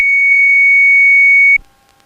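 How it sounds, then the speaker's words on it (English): A single loud, steady electronic tone, an aircraft autopilot disconnect warning, sounds for about a second and a half, then cuts off abruptly into quiet cockpit noise on approach to land. "that extremely loud beep is I disconnect the autopilot and I'm hand flying it now"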